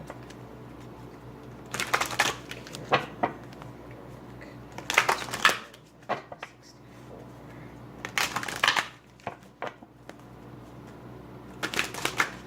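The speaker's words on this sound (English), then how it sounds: "I think I need one more shuffle." Tarot cards being shuffled by hand in several separate bursts of crisp riffling and flapping, each lasting about a second, with short pauses in between, close and fairly loud.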